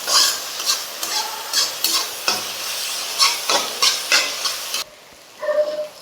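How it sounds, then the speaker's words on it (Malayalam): Onion, tomato and green chili sauté in a pan under repeated scraping stirs, with rhythmic bursts of sizzle that pause briefly near the end and then resume, no talking. "എല്ലാം കൂടി ഒന്ന് വഴറ്റി കൊടുക്കാം."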